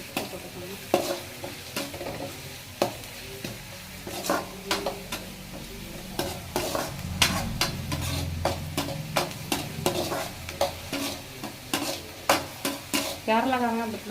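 Onions fry in a pan with a steady sizzle while a spoon scrapes and taps the metal in repeated sharp strokes, close and fairly loud.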